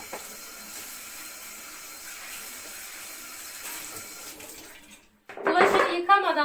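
Dishes washed by hand at a kitchen sink: a quiet background murmur gives way to tap water gushing loudly and splashing close by in the final seconds.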